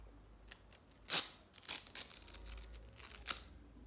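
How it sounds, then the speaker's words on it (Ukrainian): A paper surprise packet sealed with tape is torn and cut open up close, giving a few sharp ripping and snipping bursts separated by softer rustles, with no voices. "Ось такий у нас пакетик. Відкриваємо."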